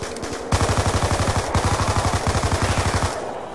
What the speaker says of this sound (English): Jello just going ham with that MP5